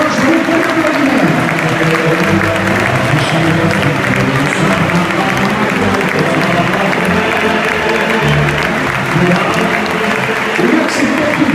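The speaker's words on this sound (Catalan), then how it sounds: "Anem a veure els campions d'un fort aplaudiment" A big stadium crowd at a Levante UD versus Valencia CF match applauds the Valencia Basket team, newly crowned Eurocup champions, in a dense, steady roar of clapping that holds loud and unbroken throughout, with crowd voices mixed in.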